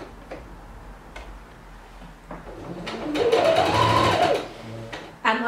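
A sewing machine runs a short burst while stitching a blouse yoke seam, preceded by a few sparse clicks and taps, the motor whirring close and fairly loud for about a second and a half before stopping.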